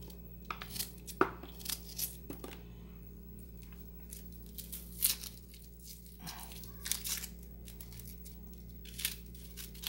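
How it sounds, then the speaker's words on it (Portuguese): Onion being chopped by hand for a blended homemade seasoning, heard as a series of close, irregular crisp cuts and crunches spread across the clip over a low steady background hum, with no talking. "Pica a cebola antes de bater no liquidificador."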